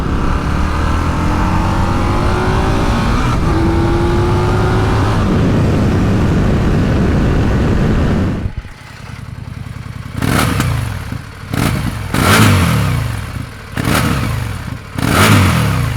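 An Indian Super Scout motorcycle on its stock exhaust rides close by with a steady engine drone, then the throttle is blipped in several sharp revving bursts that rise and fall.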